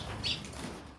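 Pet birds kept indoors with society finches beat their wings in a brief, soft flutter, faint and close, lasting about a second.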